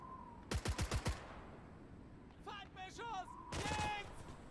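A machine gun in the WWII game Gates of Hell: Ostfront fires one short, loud burst of about five rapid shots, followed by shouted voices after a pause.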